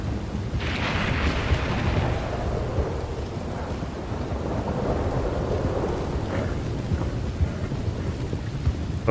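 Thunder rolls and rumbles through a steady wash of rain in Red Dead Redemption 2, with a brighter crackling strike near the start and softer distant growls afterward.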